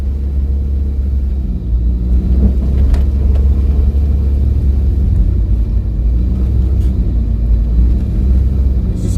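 A car drives along a road at night past Yallahs, Bull Bay and Rockfort, heard from inside as a steady, loud low engine and tyre rumble with a few faint clicks and no voices.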